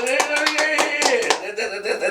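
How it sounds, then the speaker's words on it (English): Several people clap their hands together in a quick, uneven burst of claps that runs for about two seconds at close range, with a voice speaking over the clapping. "Let's clap it up for episode 6."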